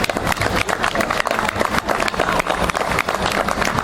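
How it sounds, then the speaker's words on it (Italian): An audience at a public event in Ischitella applauds steadily, a dense, sustained wash of clapping at close range with no break. "Quindi un applauso speciale proprio a Vincenzo"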